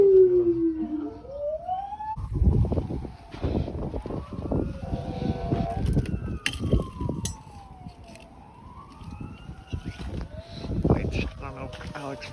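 Fire truck sirens wail through a winter storm, their rising and falling sweeps rolling on and off over a low rumble, with people talking close by and a howl-like tone mixed in.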